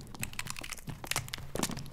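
Skulls crunch underfoot in a video game, a quick run of brittle cracking and crackling snaps, close and fairly quiet, with no other sounds alongside.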